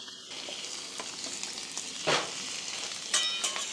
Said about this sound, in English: I am going to get that bacon on.